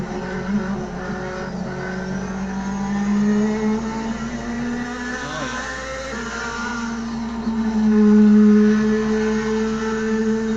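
A Porsche race car in the Automobilista 2 racing game drives steadily around a track, its engine holding a continuous loud drone that rises and falls with gear changes and throttle, with no talk over it.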